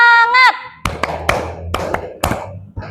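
A high-school class claps a rhythmic tepuk semangat pattern, several sharp group claps in a quick sequence after a brief vocal tone at the start, loud and close in a room.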